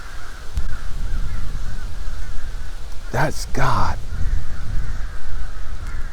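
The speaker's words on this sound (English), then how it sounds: "As I'm listening to all the birds" Crows caw outdoors in two brief harsh bursts near the middle, over steady ambient background noise, while a person speaks briefly nearby.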